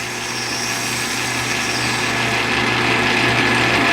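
A lathe takes a facing cut on a 26650-to-18650 battery adapter. It makes a loud, steady, close machine whir with a high cutting hiss that builds slightly through the cut.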